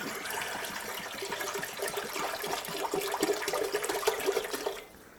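Water pours steadily into a pot for making tomato wine, a continuous splashing and rushing stream up close that stops abruptly near the end.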